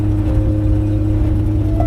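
A 1936 rat rod engine runs steadily with a low, continuous drone and a faint whirring tone on top, close and alone.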